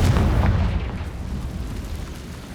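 Confringo blasting curse in Hogwarts Legacy, a loud booming explosion at the start that rolls into a rumbling, crackling decay over a couple of seconds, with no talking.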